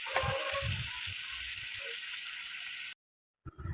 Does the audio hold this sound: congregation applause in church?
no